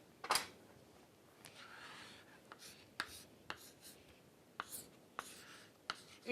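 Pen or chalk writing out a math equation, a series of short scratchy strokes and taps spaced irregularly over a few seconds, close and fairly quiet with no talking.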